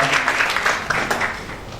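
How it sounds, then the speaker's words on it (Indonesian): A seminar audience claps along, producing a moderate burst of applause that rises quickly, peaks with a few sharper claps and then tapers off over under two seconds. "Tepuk tangan dulu untuk kita."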